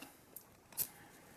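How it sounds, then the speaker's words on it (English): A pair of scissors snips once to trim off a Velcro strip during an install, a single short, faint cut against quiet room tone. "just take a pair of scissors and just trim it off"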